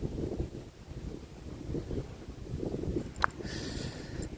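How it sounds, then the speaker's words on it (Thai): Strong wind buffets a mountaintop campsite in cold weather, gusting in uneven surges and rumbling against the microphone, with a brief sharp knock near the end. "ตอนนี้ลมแรงมากเลย"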